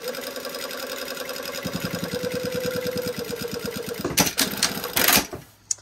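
A sewing machine runs through a shoulder seam on a jacket lining, a steady mid-level run of rapid stitching pulses that speeds up partway through and then stops, followed by a few louder bumps and rustles as the fabric is handled.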